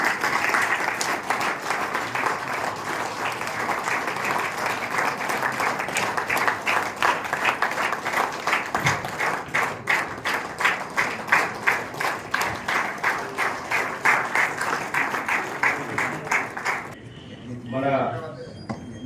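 Sustained crowd applause at a gathering of timber merchants and sawmillers, dense steady clapping for about seventeen seconds welcoming a leader onto the stage, then cutting off as a voice begins speaking.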